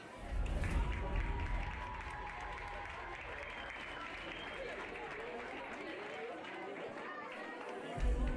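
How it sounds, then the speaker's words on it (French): Audience applauding at a pony show jumping (CSO Poney 2B) prize ceremony: dense, steady clapping from a large crowd throughout, swelling slightly at the start and end, with crowd chatter mixed in. "je vous demanderai d'applaudir la remise des prix CSO Poney"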